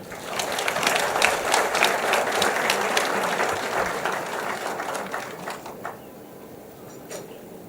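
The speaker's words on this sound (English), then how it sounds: "Let's welcome them with a round of applause." Dense applause from a large audience greets the cabinet secretary, the central bank governor and guests at a financial-inclusion strategy launch. It starts strong and thins gradually into scattered claps toward the end.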